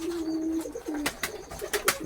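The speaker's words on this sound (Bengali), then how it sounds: "এই যে সব কবুতর খাচ্ছে" Pigeons coo in a steady low drone close by, broken by several sharp flutters and scratchy pecking bursts as they feed.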